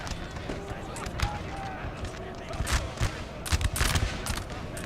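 Foot guards firing musket volleys in a Napoleon: Total War multiplayer battle on Prussian hills: sharp, distant crackling shots in irregular bursts amid a busy battlefield din, with someone talking throughout.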